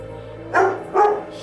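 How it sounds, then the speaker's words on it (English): A dog gives two quick, close barks about half a second apart over a quiet background hum. "Why are you barking at him?"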